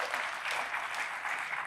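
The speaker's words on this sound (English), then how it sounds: "yes, you can clap for that." A conference audience at a YAL convention applauds in a brief, steady burst of dense clapping, moderately distant and without talk.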